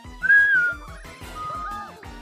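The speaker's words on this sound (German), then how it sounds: "kannst du pfeifen?" Someone whistles while breathing in, giving a thin wavering tone that rises and slides in a few short phrases, fairly close and alone without talk.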